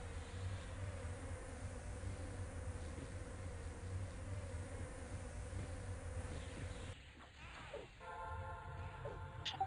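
Bees buzz in a video game, a steady, continuous droning hum for about seven seconds before the swarm noise gives way to other game sounds.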